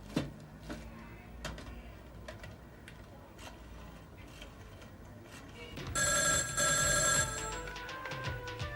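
A telephone bell rings loudly in a steady burst lasting about a second, heard near and alone in an indoor scene from a Hindi comedy serial, with a softer ticking and rustling bed around it.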